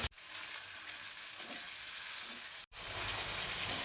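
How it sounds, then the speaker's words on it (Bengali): Chopped tomato and green chilli fry and are stirred in a pan, a loud continuous close sizzle with a brief break partway before the hissing resumes. "টমেটো কুচি কাঁচা লঙ্কা কুচি দিয়ে একটু নেড়ে চেড়ে নিলাম"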